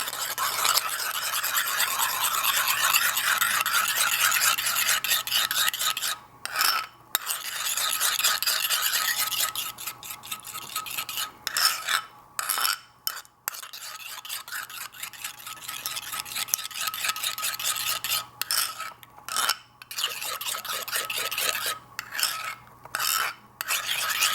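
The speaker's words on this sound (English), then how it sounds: "so I like to stir it." A spoon scraping and stirring yogurt around a textured bowl, a continuous gritty swishing with brief pauses and clinks, close up and fairly loud, no voices.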